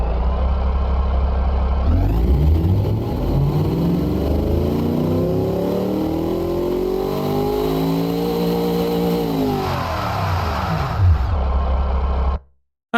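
A simulated V8 engine in the Automation car-building game, fitted to a ute, revs up through a long test pull, rising and falling in pitch, loud and steady, then cuts off abruptly at the end.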